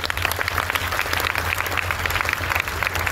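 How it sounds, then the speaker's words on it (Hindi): Audience applause at a DXN business meeting, fairly faint and steady clapping from a crowd in a hall, with a low hum running underneath. "तो आप सभी के लिए जोरदार तालियां"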